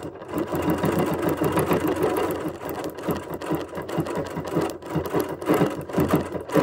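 A sewing machine stitches around a bunny outline on a quilted table runner, a loud continuous rhythmic whirring throughout with a fast regular needle beat.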